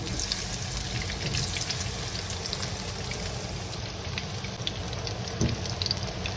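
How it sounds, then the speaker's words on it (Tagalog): Pieces of taro fry in hot oil in a pan, a steady, dense crackling sizzle that stays even and close throughout, with a faint bump near the end and no talking. "Piniprito ko na yan taro"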